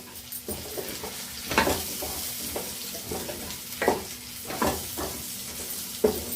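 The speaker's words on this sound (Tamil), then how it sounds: "முருங்கைக்காயும் இதுலேயே போட்டு நல்லா வதக்கிக்கலாம்" Drumstick pieces sautéed in a pan for mochai paruppu sambar, with a soft steady sizzle and several sharp scraping stirs spaced irregularly, fairly close and moderately quiet.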